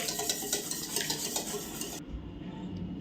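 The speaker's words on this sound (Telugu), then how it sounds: "బాగా విస్క్ చేసుకుందాం." Cake batter for a marble cake being whisked in a bowl, with quick rhythmic scraping and clinks of the whisk for about two seconds before the sound drops off abruptly to a quieter background.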